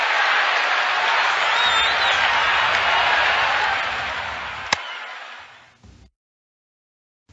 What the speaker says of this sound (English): The crowd was cheering and booing.